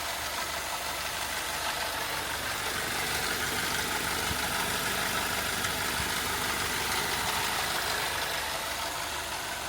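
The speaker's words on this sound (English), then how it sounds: "I'm gonna let it keep idling" A Mercedes W124 engine idles with a steady, low rumble and an even mechanical hum that holds constant from start to finish, with no voices.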